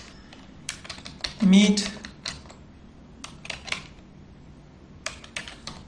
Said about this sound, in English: So in the search you type